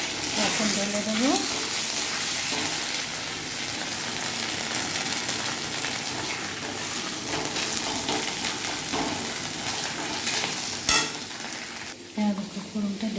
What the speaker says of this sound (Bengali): দেখো ফোড়নটা ঢেলে দিলাম